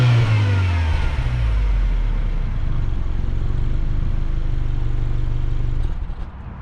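A Subaru Outback Touring XT's 2.4-liter turbocharged flat-4 with CVT and all-wheel drive accelerates with a loud, steady engine drone heard from inside the car, holding a smooth rising pitch before easing off near the end.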